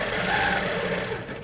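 Close, steady whirring of a sewing machine stitching through a quilt, a fast continuous mechanical hum with a rhythmic needle beat that eases slightly toward the end, no voices.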